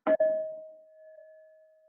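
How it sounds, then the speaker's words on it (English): A single meditation bell is struck once during a quiet breathing practice. It gives a bright strike and then a clear, pure tone that rings on and slowly fades in the silence. "following the sound of the bell to bring you back into your room"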